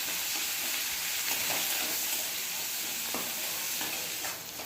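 Chopped onions frying steadily in oil in a pan, a close, continuous loud sizzle with a few faint stirring scrapes and no talking.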